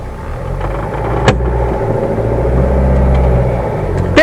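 A car pulls away up a steep ramp, its engine rumbling low and steady at close range and building slightly in strength, with a couple of short clicks or knocks and no talking.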